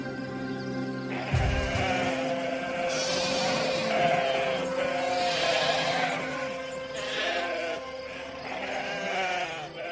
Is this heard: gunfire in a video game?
no